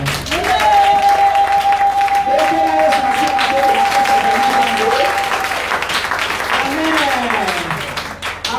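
A church congregation applauds loudly and continuously while voices sing and call out over the clapping.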